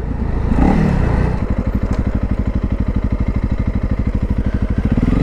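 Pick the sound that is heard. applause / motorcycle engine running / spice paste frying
motorcycle engine running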